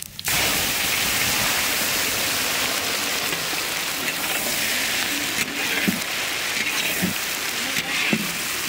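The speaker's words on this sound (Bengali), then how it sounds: "তেল গরম হয়ে গেছে, ফোড়নে তেজপাতা, গোটা জিরা," Onions sizzling in hot mustard oil with bay leaf and whole cumin, a dense, steady hiss and crackle heard up close throughout, with a few soft knocks underneath.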